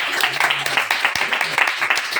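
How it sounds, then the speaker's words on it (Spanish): Audience clapping at a book presentation in a bookstore, a short burst of applause for the author with a dense, close patter of hands and some voices mixed in. "Un fuerte aplauso a Octavio."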